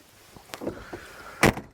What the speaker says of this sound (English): I'll just shut that door.